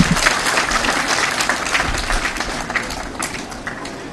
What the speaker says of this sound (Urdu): میں سمجھتا ہوں ان کے لیے بھرپور تالیاں لگائیں